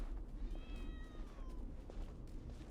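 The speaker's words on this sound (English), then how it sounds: "I heard a cat." A cat meows once in Genshin Impact, a clear rising and falling call over soft ambient game background with no speech.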